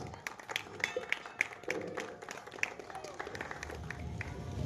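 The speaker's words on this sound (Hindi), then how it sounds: "हम लोग जोरदार तालियों के साथ एक बार" Audience at a Mahashivratri celebration held by a Kutumb Prabodhan group at a temple gives a burst of steady clapping, a moderately loud patter of many hands that continues throughout the clip.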